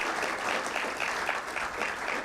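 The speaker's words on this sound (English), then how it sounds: "Requesting all the young chartered accountants to please have a big round of applause for CA Durgesh Kabra sir" A large audience of young chartered accountants claps steadily at an inaugural ceremony, a dense, even round of applause that fills the hall throughout without pause.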